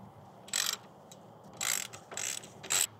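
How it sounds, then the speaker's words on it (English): Ratcheting clicks of a 10 mm wrench removing the carburetor studs on a Honda GCV160 small engine: four short close bursts of rapid metallic ratchet clicking with brief pauses between. "Using a 10 millimeter wrench, we're gonna remove the two carburetor studs"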